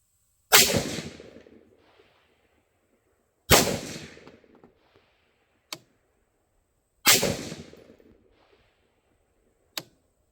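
Three sharp, loud rifle shots from a PSA Mk12-style 20-inch rifle, evenly spaced a few seconds apart, each ringing briefly, with a smaller sharp click or report after the second and third.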